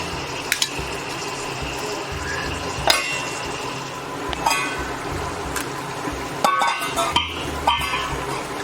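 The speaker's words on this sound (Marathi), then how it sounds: "व्यवस्थित असं मिक्स करून घेते" Mori fish masala being mixed in a pan with a spoon, producing close, steady scraping and clinking over a continuous sizzling, bubbling background, with a few sharper clinks near the end.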